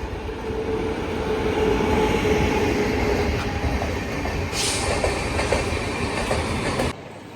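A train arriving at Charlapalli railway station, its heavy steady rumble and rolling wheel noise filling the platform close by, with a faint high squeal and a brief brighter hiss toward the end before it drops away.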